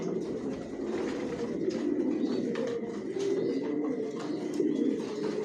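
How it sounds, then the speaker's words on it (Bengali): Racing pigeons coo in a loft, their low, repeated throaty calls rolling on close by and mixing with soft rustles and a few brief chirps, with no talking. "এখানে যে কবুতরগুলো দেখতেছেন এগুলো আমার মাস্টার পেয়ার, রানিং পেয়ার।"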